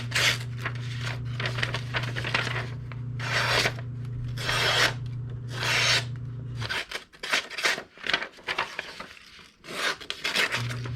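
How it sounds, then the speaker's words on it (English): A Work Sharp powered sharpening machine grinds the edge of an inexpensive Ozark Trail knife in repeated short rasping passes, with a steady motor hum underneath for most of the clip, close and fairly loud. "I have a work sharp machine."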